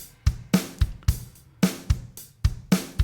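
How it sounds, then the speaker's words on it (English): A GarageBand Drummer virtual drum track plays a steady rock beat of punchy kick drums, crisp snare hits and cymbal washes in a clear, repeating rhythm, with no talking. "All right, so this drum sound currently sounds like this."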